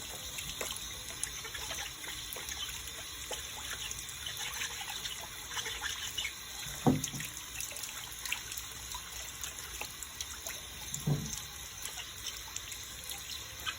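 Tap water runs into a sink while freshly picked cucumbers are washed. A faint, steady trickle continues throughout, with a couple of soft splashes or clunks from handling and no speech.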